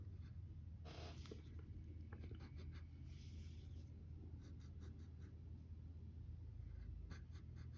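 Pencil drawing lines on paper while sketching a comic superhero's face, soft scratchy strokes in short bursts over a faint steady background hum, fairly quiet and close.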